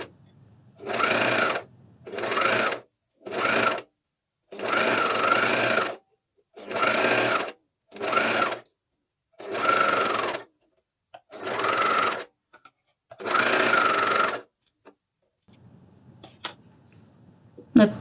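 A coverstitch machine fitted with a binder sews fabric binding around a curve in about eight short, close bursts of rapid stitching separated by pauses, then falls quiet apart from faint handling sounds.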